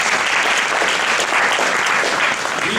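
A large audience at a Caribbean American Heritage Month tribute gala bursts into loud, dense applause that holds steady and close throughout.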